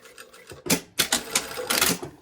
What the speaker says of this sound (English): we're going to sew down to this corner down here. That's just, this is a reinforcement stitch